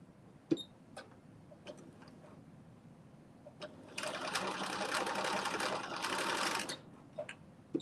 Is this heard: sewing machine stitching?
yes